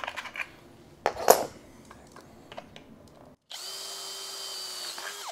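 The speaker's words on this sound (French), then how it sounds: "tu reperces ton troisième trou" Power drill re-boring a third hole in a kickstand mount on a Dualtron Victor electric scooter, a steady whine starting partway through after some clanking handling of metal parts, close and loud.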